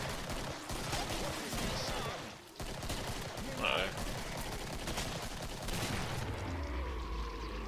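Hunting shotgun fire in the video game Killing Floor rings out in repeated loud blasts amid dense game noise and effects across the span.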